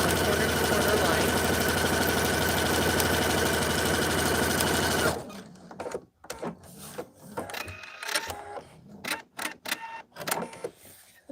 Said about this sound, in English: So I'm going to sew my first point to point, so my corner to corner line.